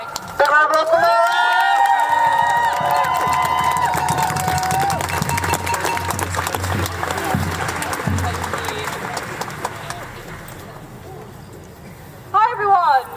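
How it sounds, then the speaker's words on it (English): An outdoor crowd at a trans pride protest in Nottingham claps and cheers loudly, with whoops and a burst of voices toward the end, and talk mixed in. "Big round of applause for Laura"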